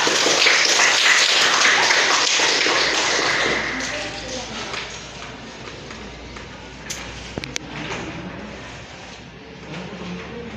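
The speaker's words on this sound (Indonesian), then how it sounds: "semuanya berikan aplaus dulu untuk kelompok 3" Classroom applause for a student group during a science lesson, a dense burst of many hands clapping for the first few seconds, then fading into quieter room shuffling and scattered taps.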